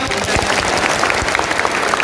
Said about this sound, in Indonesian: Ayo, tepuk lima.